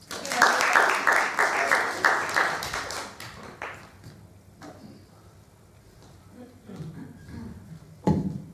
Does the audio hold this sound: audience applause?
yes